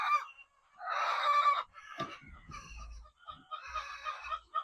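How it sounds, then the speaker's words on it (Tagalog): Cage-free laying hens in a poultry house on a morning egg collection cluck loudly in bursts, mixed with crowing and squawking, with short quiet gaps and no talk. "Ang iingay ng mga manok namin ngayon,"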